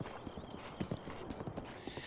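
Clip-clop of Epona the horse's hooves in a Zelda video game, a steady trotting rhythm of close, distinct hoof beats with a brief whinny-like tone and faint background music.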